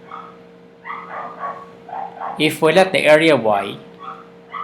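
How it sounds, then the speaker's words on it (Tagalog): A dog barks and yips a few times in quick succession, fairly close and loud, mixed with a teacher's voice speaking during an online maths lesson. "pasensya na kayo sa aso dahil ewan ko ba dyan, hindi ko maintindihan kung anong nangyari sa aso na yan"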